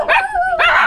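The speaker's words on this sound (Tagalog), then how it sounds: "May aso. Ito nagagalit." A dog barks angrily in two loud, close, strained bursts with a yelping, whining edge, no talk over it.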